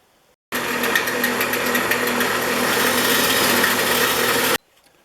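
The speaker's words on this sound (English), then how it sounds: "Now I'm going to hit those indents on the sides with my wire wheel." A wire wheel spins against the sides of a Stanley No. 60 low angle block plane, a steady high-pitched whirring grind that starts abruptly, holds for about four seconds, then cuts off.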